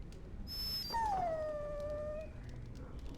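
A dog in the video game Dragon Age: Origins lets out a drawn-out, high whine that slides downward into a long falling whimper, clear and fairly close, over faint background noise.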